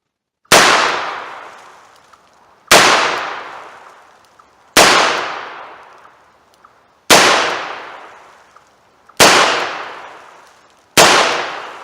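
Six loud, sharp .38 caliber revolver shots fired with wadcutter rounds at a small target, spaced about two seconds apart, each cracking and then trailing off into a short ringing decay.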